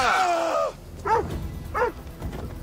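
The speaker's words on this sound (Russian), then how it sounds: "Собака, вторая?" A dog in the video game Assassin's Creed Odyssey gives two short, separated yelping barks at moderate distance, following a brief tonal sound at the start.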